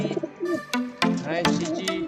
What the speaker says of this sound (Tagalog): dito na po yung ibon natin na si Chichi.